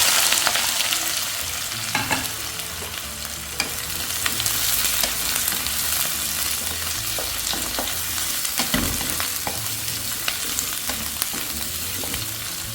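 Three chopped onions and three green chillies fry in coconut oil in a pan, a steady loud sizzle running throughout with repeated scraping and clinking as they are stirred, no voices.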